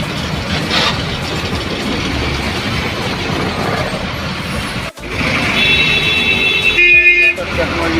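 Steady roar of a traffic jam on a flooded, rain-soaked highway in Maharashtra. Vehicles rumble and hiss through standing water, with a brief dropout midway and then a few high horn-like tones near the end.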